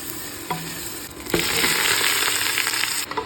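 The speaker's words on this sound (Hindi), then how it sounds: "अब इसमें डालेंगे अदरक लहसुन का पेस्ट, और इसे भी अच्छी तरह से फ्राई करेंगे" Ginger garlic paste dropped into a hot pan bursts into a loud, sharp sizzle, then keeps frying in a dense, steady hiss while being stirred, with a soft clatter as it goes in.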